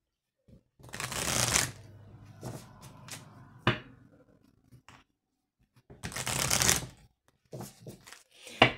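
A deck of oracle cards is shuffled and cut in close, crisp riffling bursts separated by quiet gaps and small taps, and there is no talking.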